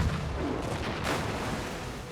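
Cannon fire booms in a naval battle between War of 1812 sailing ships: a short rumbling burst of muffled blasts with a stronger crack near the middle, moderately loud and unaccompanied by voices.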